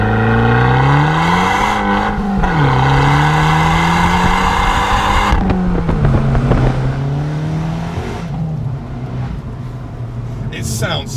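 An Abarth 695 Rivale engine revs loudly and continuously, its pitch rising and falling in sweeps with a brief dip near the middle, raspy exhaust tone close by.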